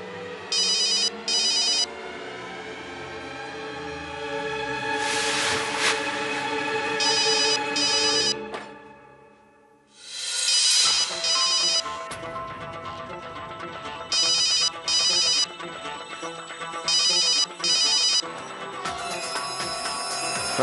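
A telephone rings with a repeating electronic ringtone in short bursts over a musical background score, briefly dropping out before resuming, with no talking.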